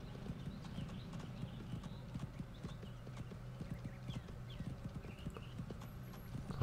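Hooves of a galloping black horse pound steadily across open grassland in the video game Go Vacation, a continuous rapid clip-clop rhythm at moderate volume, mostly alone over a soft game backdrop.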